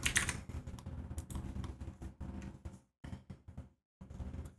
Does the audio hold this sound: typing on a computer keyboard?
yes